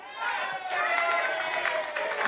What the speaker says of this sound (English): To ironic applause